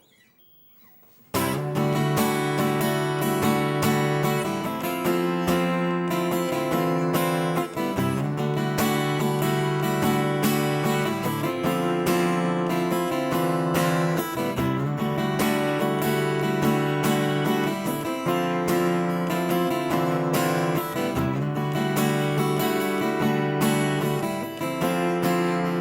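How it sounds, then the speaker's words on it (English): Steady, full-bodied acoustic guitar plays the intro, chords repeating in a regular pattern after a brief quiet lead-in. "This song is played on the acoustic guitar with the exception of the solo"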